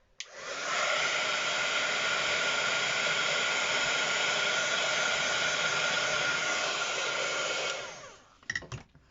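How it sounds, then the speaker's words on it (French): A heat gun drying watercolor paint on a painting, blowing a steady, loud whooshing roar for about seven seconds before switching off, followed by a few soft handling knocks. "je vais mettre un petit coup d'heat gun là pour continuer à travailler la glacière"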